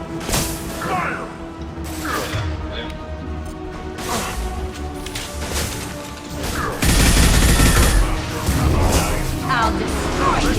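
Mass Effect 2 combat: rapid bursts of gunfire and clattering impacts, with a heavier crash partway through, mixed under shouting voices.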